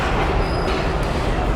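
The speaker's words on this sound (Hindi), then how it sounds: "6:05 फाइनली ट्रेन डिपार्ट कर रही है हमारी फैसलाबाद रेलवे स्टेशन से।" Millat Express train pulling out of Faisalabad railway station, a steady loud rumble of rolling carriages with faint high wheel squeal, continuous and close throughout.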